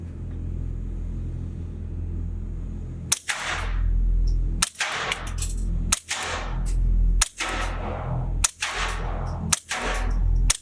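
FN 502 pistol being fired at a range, a series of sharp, loud single shots spaced about a second apart after an initial quiet stretch, each with a short rumbling echo.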